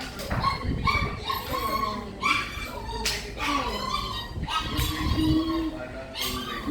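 A dog barks and whimpers in a string of yips and whines close by, with voices talking in the background.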